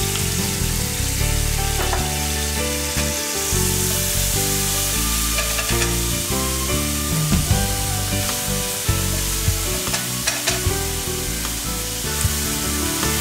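Diced garlic sizzles in olive oil in a pan, a steady, loud crackling hiss that runs throughout with occasional stirring clicks and a sustained musical drone underneath.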